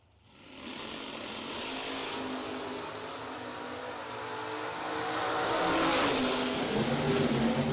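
Drag race cars at a door slammer event, a 1967 Camaro and a 1990 Camaro, roar down the strip with loud engine drone that swells and peaks near the end, engine pitch shifting as they pass.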